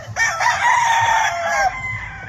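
A single rooster crows close and loud in one drawn-out call lasting about two seconds, with faint background noise and no voices.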